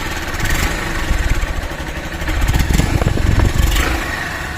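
Honda SP 160 motorcycle engine running close by at a steady, throbbing idle, with two brief swells in loudness as it revs slightly, alone without talk.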